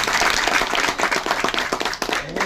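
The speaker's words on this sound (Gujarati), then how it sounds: "હવે તાળી પાડે" An audience at a village RCM business meeting applauds, with dense, steady clapping from many hands sustained throughout and fading slightly toward the end.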